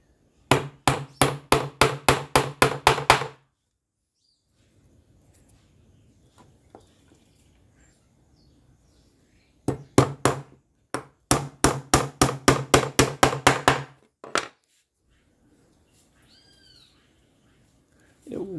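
A small, old hammer strikes a workpiece in quick, evenly spaced runs of about a dozen blows each. Quiet gaps separate the runs, and a few isolated taps close the sequence.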